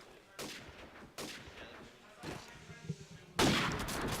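Gunfire bursts in a Counter-Strike match during a playoff esports broadcast, with several sharp volleys spaced across the clip, the last one loudest, alongside faint commentary-like sound.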